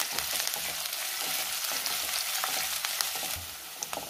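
Bell pepper stir-fried in an oil-filled pan for a leftover-rice dish with Schezwan chutney gives a steady, close sizzle with crackling spits and occasional scraping stirs throughout.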